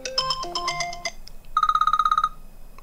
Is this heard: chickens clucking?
no